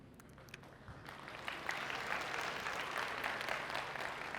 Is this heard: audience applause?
yes